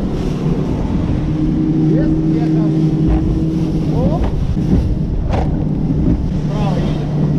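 Several motorboat engines droning together at the start of a fishing competition on a lake in Finland, a steady wind-buffeted roar with passing engine tones throughout.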